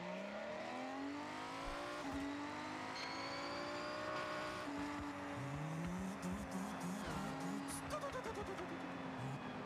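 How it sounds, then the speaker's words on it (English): A Ferrari turbo engine in Forza Horizon 6 revs and shifts through rising whining harmonics, with tire squeal and skidding chirps, loud and close, and a voice talking over it. "Classic Ferrari turbo right there"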